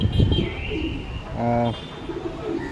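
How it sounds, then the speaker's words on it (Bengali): A red male breeding pigeon coos close by in a short, soft burst, with a brief chirp-like bird note and some background voice around it. "এটা একটা লাল কবুতর নর এটা ব্রিডের কবুতর"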